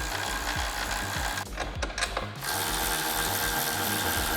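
A ratchet wrench rapidly clicks while removing the upper rearmost hardware during a frame stiffener install on a Can-Am Maverick R. The ratcheting runs steady and close, breaking briefly midway before resuming.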